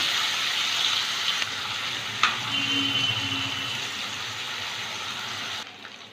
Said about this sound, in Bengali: প্রথমে চিংড়ি মাছগুলো ভেজে নেব।